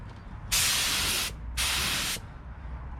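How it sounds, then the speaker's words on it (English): Paint spray gun spraying a truck in two bursts, the first about three-quarters of a second and the second slightly shorter, each a loud, close, even hiss with a short pause between. "They do make a spray gun for inside."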